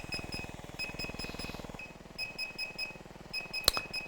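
A device beeps repeatedly during a firmware upgrade, short quiet tones in a regular pattern over a rapid low buzzing pulse, with one sharp click near the end.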